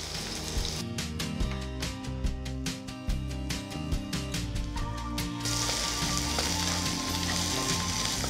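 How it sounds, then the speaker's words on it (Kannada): Mint and coriander leaves frying in a pan, giving a steady loud sizzle with rhythmic scraping strokes, then settling into an even hiss. "ಸ್ವಲ್ಪ ಪುದೀನ ಮತ್ತು ಕೊತ್ತಂಬರಿ ಸೊಪ್ಪು ಮಿಕ್ಸ್ ಇದೆ ಇದರಲ್ಲಿ. ಇದನ್ನು ಹಾಕ್ಕೊಂಡು ಚೂರು ಫ್ರೈ ಮಾಡ್ಕೊಳ್ಳೋ."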